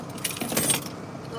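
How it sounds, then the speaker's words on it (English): Keys jangling briefly and loudly up close as they are picked up inside a car, a quick metallic rattle lasting under a second. "but I will take my keys."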